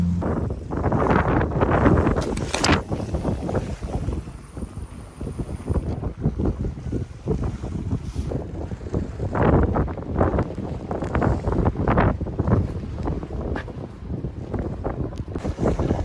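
Strong gusting wind at night by the water while fishing, buffeting the microphone in loud, rough bursts that rise and fall throughout, with no talk.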